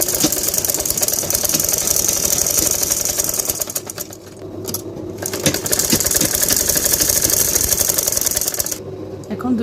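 Sewing machine stitching blouse fabric for a lehenga blouse, a steady close mechanical whir with rapid needle clatter running for several seconds, briefly easing midway and again near the end.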